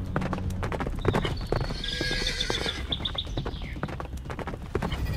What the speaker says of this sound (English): Horse, run fast!